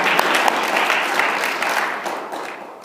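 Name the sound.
audience applause for new volunteer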